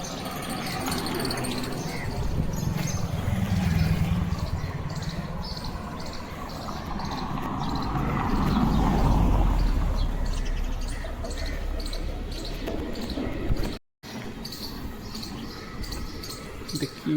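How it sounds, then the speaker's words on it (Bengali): Assorted birds call on an early morning walk along a quiet street around six o'clock, their chirps repeating faintly in the distance over steady outdoor rumble and footsteps. "কত রকম পাখির আওয়াজ।"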